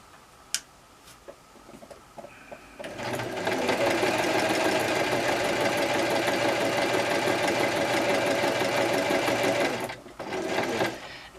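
A sewing machine stitches fabric squares in a steady, rapid mechanical whir lasting several seconds, preceded by a few faint clicks and ending with a short pause and brief restart.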